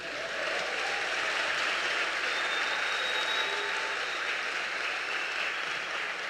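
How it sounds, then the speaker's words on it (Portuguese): A church congregation applauds in a steady, dense wash of clapping that holds evenly throughout at close range. "Dá um aplauso aí para o Senhor."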